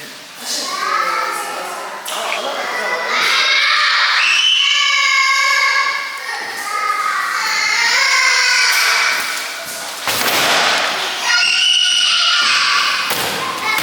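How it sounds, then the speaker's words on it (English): A child screams in loud, high, sustained bursts with wavering pitch over almost fourteen seconds, broken by short pauses and a few thumps. "Why are you screaming like that?"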